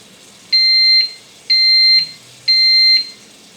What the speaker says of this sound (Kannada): 13 ನಿಮಿಷ ಆದಮೇಲೆ ಈಗ ನಮಗೆ ಬೀಪ್ ಸೌಂಡ್ ಕೇಳಿಸತ್ತೆ.